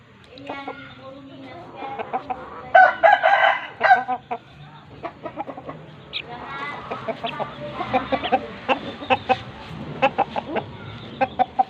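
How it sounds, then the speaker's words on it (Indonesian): Chickens cluck and a rooster crows nearby during a chicken-care session, with a loud crow early on followed by repeated short clucks and calls, while a person talks over them. "Ini ayamnya kokoh"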